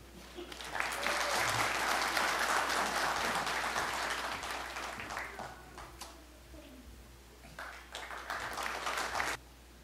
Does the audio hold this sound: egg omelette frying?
no